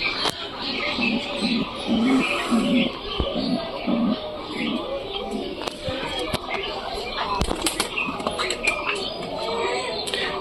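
Pigeons in a loft coo in low, repeated burbling calls with scattered wing flaps and shuffling, close and fairly loud, while a person talks over them throughout.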